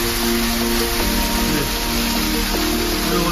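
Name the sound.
hail falling at a mountain temple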